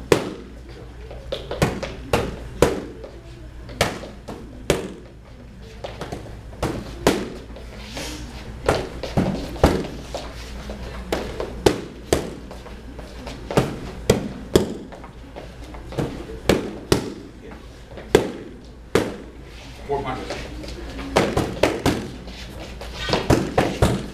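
Boxing jab, cross and hook combinations hitting pads during a self-defense lesson, a long series of sharp, close thuds in quick bursts with short pauses, with a voice talking between them.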